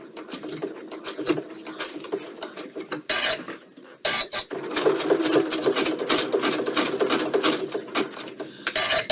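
A sewing machine stitches through coiled rope in a fast, steady mechanical patter, stopping briefly twice before resuming; close and loud, with no voices.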